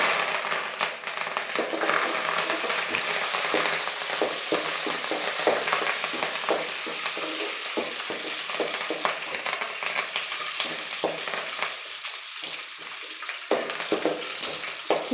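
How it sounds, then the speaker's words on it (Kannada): Onions frying in hot oil with curry leaves for tempering, a steady dense sizzle with occasional stirring scrapes, close and continuous throughout with no talking. "ಈರುಳ್ಳಿ ಅರ್ಧ ಫ್ರೈ ಆದರೆ ಸಾಕು ಒಗ್ಗರಣೆಯಲ್ಲಿ"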